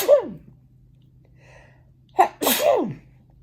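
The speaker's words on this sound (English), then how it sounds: "I'm going to sneeze, sorry." A person sneezes loudly and close by: a brief vocal burst at the start, then a sharp intake of breath and a full sneeze later on, with quiet room hum between.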